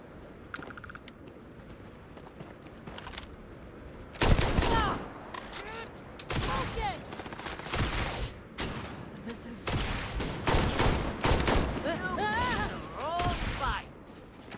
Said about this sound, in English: Pretty sure I just shot my ally in the back.